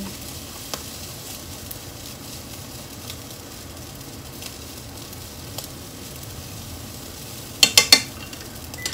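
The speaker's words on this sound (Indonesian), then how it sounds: "Karena ini nasi sisa kemarin masih bergerindil, saya hancurin." Leftover day-old rice stir-fried in a pan, a low steady sizzle with soft scraping as clumps are broken up, ending in a few quick metallic taps of the utensil against the pan.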